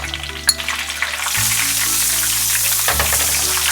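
Butter hits a hot frying pan and breaks into a loud, steady sizzle after a few quiet clicks, with a low kitchen hum underneath.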